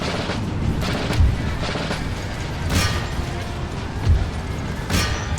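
Musket line volley fire in Empire Total War, a dense rolling crackle of gunfire with several heavier booms swelling and fading over continuous battle noise.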